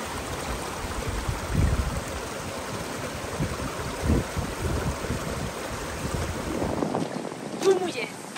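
Cold wind outdoors buffeting the microphone as a steady rushing roar with gusty low thumps, close and fairly loud, with brief voices near the end.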